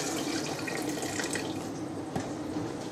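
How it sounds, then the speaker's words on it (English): Water poured into a pot of blended carrot soup, a steady close splashing trickle lasting the whole moment with no talk. "Then we go with a little bit more water"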